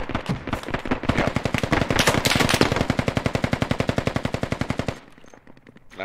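Sustained automatic gunfire in the Squad video game on the Al Basrah map: a loud, rapid, evenly spaced burst of shots lasting several seconds, then a sudden drop to faint background.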